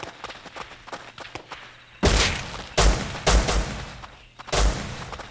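Gunfire in the survival video game Rust, with several loud, sharp bursts of shots spaced irregularly over quieter thuds and movement sounds.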